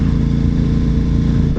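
A MotoGP racing motorcycle sits on a practice start area at the Aragón track, its engine holding a loud, steady, buzzing drone close by with an even pulsing rhythm, launch control engaged and no voices.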